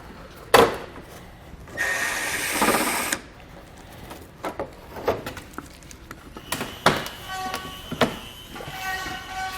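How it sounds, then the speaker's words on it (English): Trim panels are pried and pulled off the rear of a 2021 BMW X5, with sharp plastic pops and clicks, a burst of scraping rustle, and scattered snaps and rattles close by, with no talk. "Now we should begin to start removing our panels here."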